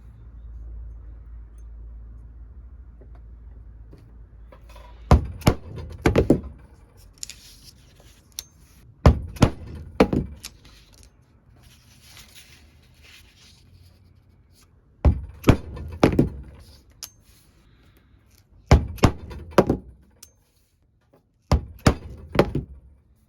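Metal leather pricking iron struck into leather on a workbench, landing as five separate clusters of two or three sharp, loud knocks spaced several seconds apart, with quiet pauses between them and no talking.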